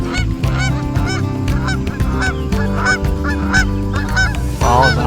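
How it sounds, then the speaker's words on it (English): Canada geese honk in a fall farm setting, a flock calling in a rapid, overlapping chorus of loud, nasal honks that continues steadily throughout. "Canadian geese."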